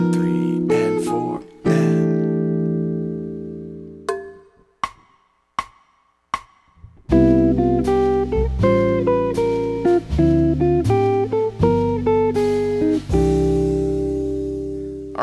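Jazz guitar plays a 1-6-2-5 chord and single-note line with syncopated rhythm, opening with a few chords and sparse plucked notes before settling into sustained voicings and flowing melodic phrases, clear and close with no talking.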